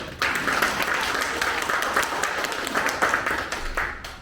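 An audience at a metal workers' union retreat claps steadily throughout, a dense, continuous round of applause.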